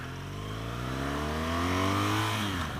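BMW R1200 GS motorcycle from 2016 pulling away hard, engine note climbing steadily through the revs with a gear change near the end, loud and close throughout with no talking.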